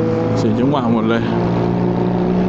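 Honda Forza 300 scooters accelerate away along a road, a close engine drone whose pitch briefly climbs in quick rising sweeps before settling into a steady hum.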